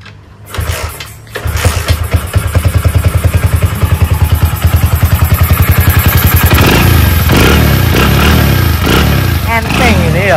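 A Honda Win motorcycle engine fitted with a fuel-injection kit kicks into life and settles into a loud, rapid, thumping idle close by, then revs up steadily as the throbbing quickens and builds, with people talking nearby.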